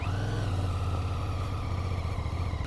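A 2023 QJMotor SRT 550 adventure tourer motorcycle idles with a steady, even low engine rumble, close by and unbroken, with no talk.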